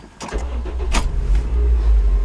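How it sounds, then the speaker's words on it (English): Manual transmission car starting to move on clutch alone, a low engine rumble that firms up after a few clicks and knocks from the cabin, held steady and close throughout. "We're going to move the car with just the clutch."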